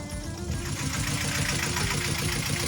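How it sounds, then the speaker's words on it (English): A 15 horsepower Yanmar diesel boat engine runs steadily close by on a sailboat on Lake Conroe, with an even, fast knocking throb that stays loud and unbroken throughout. "What we have right there is a 15 horsepower Yanmar diesel engine."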